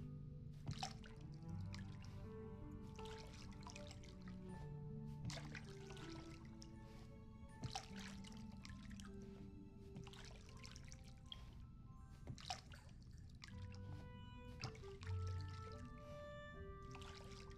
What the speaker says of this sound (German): hier gieße ich erstmal wieder